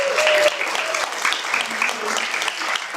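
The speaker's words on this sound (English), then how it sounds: "give them a round of applause, please" An audience at a Kabbalat Shabbat gathering applauds teachers with dense, continuous clapping that stays loud and even for the whole stretch, with some voices mixed in underneath.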